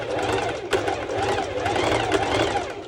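A sewing machine runs steadily, stitching a strap channel with a small stitch length for a ruched skirt, its motor whirring continuously at close range.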